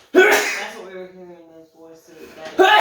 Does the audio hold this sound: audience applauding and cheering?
no